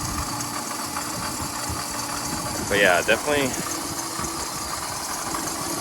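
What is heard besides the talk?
Jeep Grand Cherokee engine idling with a rattle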